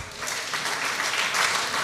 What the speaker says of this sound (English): Please, a round of applause as he comes.